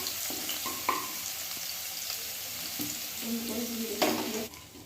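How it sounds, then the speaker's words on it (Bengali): Crushed garlic sizzles in hot oil in a pan while it is stirred, a soft steady frying hiss broken by a few scraping stirs and clinks, close and fairly quiet with no talking. "এবার রসুনটাকেও ভালো করে ভেজে নিচ্ছি, যতক্ষণ না রসুনের কাঁচা গন্ধটা চলে যায়।"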